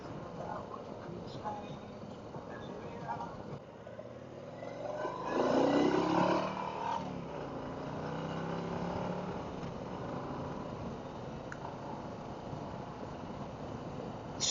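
A 2023 Harley-Davidson CVO motorcycle rumbles through a steady ride, engine noise swelling briefly mid-way amid wind and road roar, with a rider talking over it.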